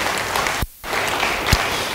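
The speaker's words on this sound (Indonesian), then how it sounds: "Yang percaya, beri tepuk tangan bagi dia." Church congregation applauding in a steady, loud burst of clapping that briefly drops out before resuming, with no speech over it.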